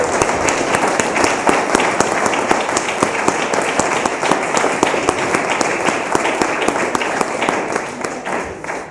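A crowd in a synagogue at a Yom HaShoah ceremony applauds steadily and loudly, with dense, sustained clapping that carries on throughout.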